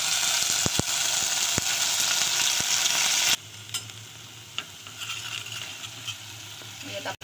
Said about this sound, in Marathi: यात आपण पेस्ट आता मस्त व्यवस्थित अशी परतवून घेतली आहे।